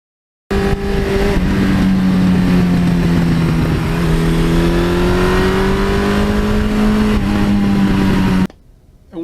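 A 1982 Suzuki GS1100E motorcycle engine runs steadily just above idle, a loud close drone with a faint rising pitch, cutting off abruptly near the end.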